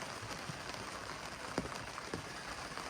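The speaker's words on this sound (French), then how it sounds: "Jeudi 16 mars, journée de pluie et d'orage. L'occasion de tester notre bimini" Rain patters on a boat's bimini canopy on a stormy day, a quiet steady hiss with a few sharper drops tapping close by.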